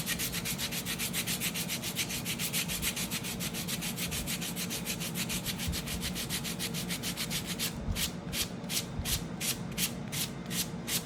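Steady, continuous rubbing of 320 grit sandpaper along an edge, a rhythmic back-and-forth scratch that holds close and even throughout, quickening into crisper strokes near the end, with no voices.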